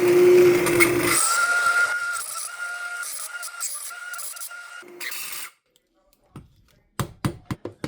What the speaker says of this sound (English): So I'm going to put a little bit of it through the Immersion Blender.